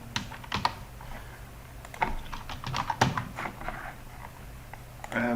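Typing a name on a computer keyboard: scattered soft key clicks in short irregular bursts, near and fairly quiet, with no one speaking.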